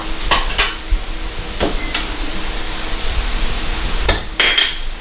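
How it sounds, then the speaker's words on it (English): Ingredients go back into a pan in a home kitchen, with a few sharp metallic clanks and scrapes of cookware and utensils over a steady background hum, loud and close, with no talking. "I'm just going to put everything right back in the same pan."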